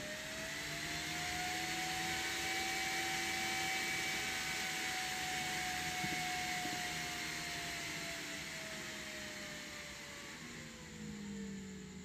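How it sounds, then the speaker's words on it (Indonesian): A small brushless DC fan runs somewhat noisily up close, giving a steady airy whir with a thin whine that drifts slightly in pitch and dips briefly near the end, with nobody speaking. "ini kipas DC brushless ya guys eh, lumayan agak sedikit berisik suaranya"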